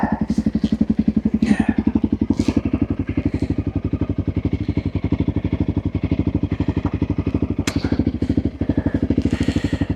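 A Honda CRF300L motorcycle rides a gravel track in Iceland's Westfjords, its single-cylinder engine thumping in a fast, steady rhythm close by, with occasional clattering.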